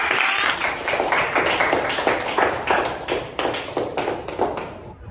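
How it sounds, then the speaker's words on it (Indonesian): Schoolchildren clap their hands together in a classroom, the loud, close applause settling into a quick, rhythmic unison beat. "Ibu bangga pada kalian. Tepuk tangan."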